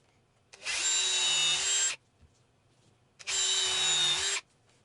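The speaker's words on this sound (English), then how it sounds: "I'm going to use a countersink bit, and I'm going to go ahead and countersink 3 screws into our support block." A power drill with a countersink bit driving screws into a solid maple support block, two loud whirring bursts of about a second and a half each, separated by a short pause, close up and alone.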